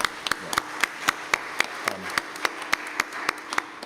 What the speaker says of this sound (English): all of whom deserve a round of applause